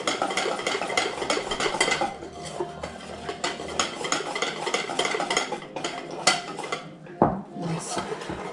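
Muffin batter stirred by hand in a bowl, with a continuous, busy scraping and clattering of the utensil against the sides, loud and close. A brief pause comes near the end before the stirring resumes.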